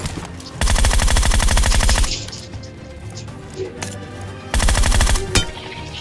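Bursts of rapid automatic gunfire from a battle royale video game, two loud sustained volleys with a few single cracks between them, over game ambience.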